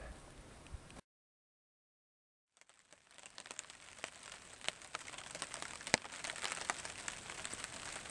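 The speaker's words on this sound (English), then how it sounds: "You know what that sound is? Rain." Rain falling on a camping tarp at a lake campsite: an irregular patter of crackling drops that starts after a short silence and thickens into a dense, steady drumming.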